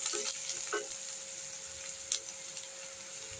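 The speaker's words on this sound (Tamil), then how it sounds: "நல்லா ஆனியன் வதங்கட்டும்." Chopped onions sizzle and fry in a hot pan while being stirred now and then for a spicy egg podimas, a steady close hiss with a few scraping stirs.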